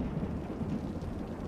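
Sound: thunder from lightning strike in video game Cities: Skylines

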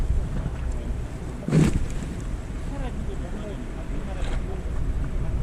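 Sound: strong wind blowing at sea while fishing

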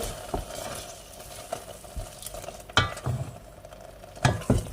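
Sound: spicy dish boiling in a pot

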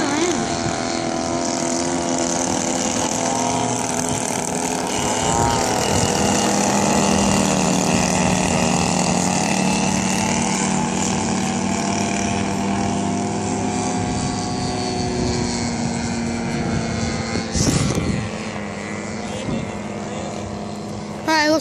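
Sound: Cessna airplane coming in to land

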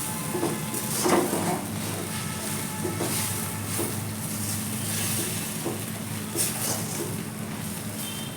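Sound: stirring amaranth with peanut chili powder in a pan

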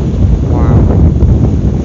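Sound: sea waves on the beach at Cleveleys, with wind

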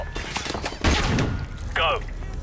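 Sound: flashbang grenade explosion in video game Call of Duty Modern Warfare

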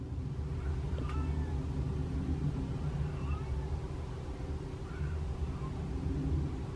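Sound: cat meowing

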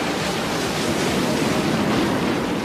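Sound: ocean waves pounding a pier

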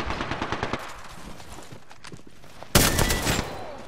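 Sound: gunfire in Apex Legends video game

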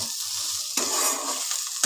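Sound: stirring pui mituli frying in a pan

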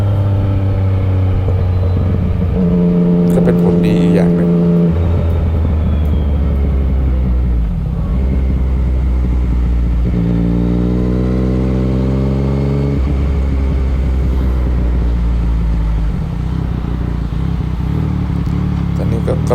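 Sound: Yamaha MT-09 motorcycle riding on road

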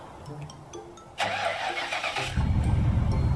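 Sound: Ford Mustang SVT Cobra R engine starting

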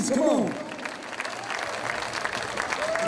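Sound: audience applause at a live concert

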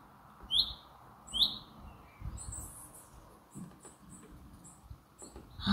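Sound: bird singing outside a camper van

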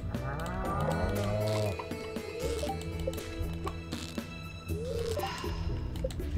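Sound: cow mooing in the video game Stardew Valley

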